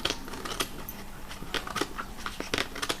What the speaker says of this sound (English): Take your scissors, cut right along this line.